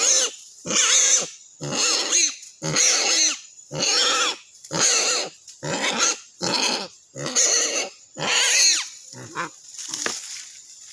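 A wild boar on a mountain grunts loudly and close by, a steady series of about a dozen rough snorting grunts with short pauses between them.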